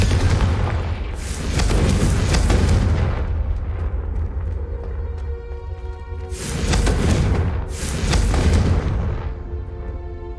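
Repeated Confringo blasting-spell explosions in the video game Hogwarts Legacy, several loud booming bursts with long rumbling decay, closely spaced and loud.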